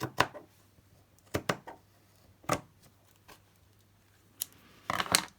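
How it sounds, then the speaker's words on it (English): Fabric scissors snip through cloth in a few short, crisp bursts with quiet pauses between, close by, finishing in a quick flurry of cuts. "So I need to cut it down to size. Fabric scissors, Carol."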